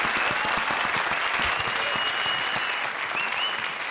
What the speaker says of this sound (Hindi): तो जोरदार तालियां प्रिंस और वीआईपी के लिए